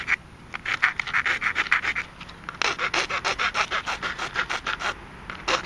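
Rhythmic rasping strokes of a file shaping notches on the tips of a PVC longbow, in close, steady back-and-forth bursts with brief pauses between runs.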